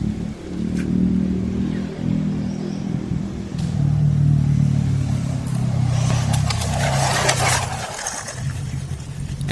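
A modified WPL D12 RC truck with a big 3650 brushless motor on a 3S battery, driving close by with a whining motor hum that rises and falls with the throttle, plus some clattering from the tires and chassis.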